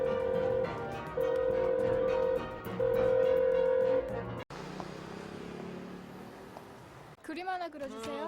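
A telephone number is dialed, producing a series of steady electronic tones separated by short gaps, followed by a hollow line hiss and then a brief voice.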